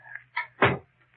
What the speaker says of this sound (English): Did you lock the door, Mary?